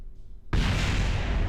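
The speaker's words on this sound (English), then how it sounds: "I think the explosion is coming from the main sails at the bottom" A rocket in Kerbal Space Program blows up on the launch pad, a sudden loud blast that cuts in after a quiet moment and becomes a sustained roaring, crackling rumble.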